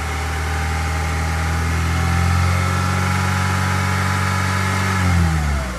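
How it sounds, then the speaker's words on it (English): A car engine revs during a cylinder balance test, climbing from idle to a sustained high, steady roar before dropping off at the end, with no talk. "let's go ahead now and rev the car"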